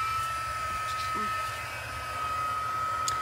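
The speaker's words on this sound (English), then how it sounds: "take my heat tool, and a lot of times I'll just leave it right on here" An embossing heat tool blowing steadily at close range with a constant whirring hum and faint whine, running without pause the whole time.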